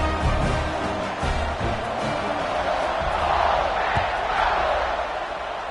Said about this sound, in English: Do you think this crowd's going to get loud when their defense comes on the field?